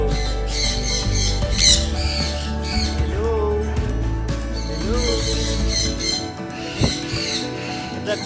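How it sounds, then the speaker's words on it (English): Exotic birds squawk loudly and repeatedly at a crowded bird show in Dubai, harsh calls overlapping with faint chatter and a busy hall murmur. "See the birds still flying around."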